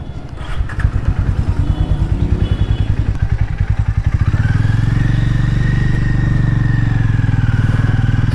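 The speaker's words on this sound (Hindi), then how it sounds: "फिलहाल एक बार टेस्ट ड्राइव लेके देख रहा हूँ कि बाइक कैसा है" A Hero Mavrick 440 motorcycle on a test ride: the engine thumps in a rapid steady pulse up close, then revs up after a few seconds and holds a louder, smoother drone to the end.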